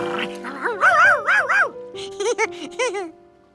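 Cartoon dog, a blue-dyed dog, gives a run of tonal, wavering yelps and whimpering barks in quick bursts, loud and close, with a short pause midway.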